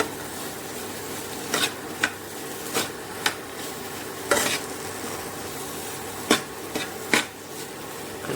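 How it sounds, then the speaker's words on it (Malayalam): Green apple pieces for pickle are stirred in a hot pan, with a low sizzle beneath sharp spoon knocks and scrapes that land roughly every half second to a second, close and alone. "കുറച്ചിട്ടിട്ടൊന്ന് ഇളക്കി കൊടുക്കാം."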